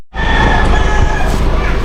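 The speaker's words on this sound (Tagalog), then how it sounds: "Uy, daming manok." Chickens and a rooster at a rural animal rescue site, with steady clucking and fowl calls close by against a continuous background rumble.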